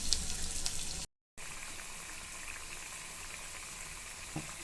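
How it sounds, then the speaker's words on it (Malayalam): Parippu vada, lentil fritters, frying in oil over a low flame, a steady close crackling sizzle with a brief silent break and a few soft bubbling pops. "ഇത് ലോ ഫ്ലെയിമിൽ വെച്ചിട്ട് വേണം ഫ്രൈ ചെയ്യാൻ, അല്ലെങ്കിൽ പുറം പെട്ടെന്ന് കരിയും, ഉള്ളു മൂക്കത്തില്ല"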